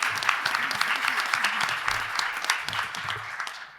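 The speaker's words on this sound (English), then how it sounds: "big round of applause for her" Applause from a panel audience at an oncology conference, a room of people clapping steadily, with faint low murmurs underneath, tapering off at the end.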